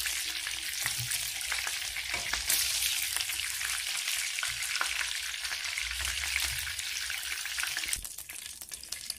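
Chicken and olive cigars fry in hot oil, giving a dense, steady crackling sizzle close up that runs throughout with small pops and faint stirring clicks.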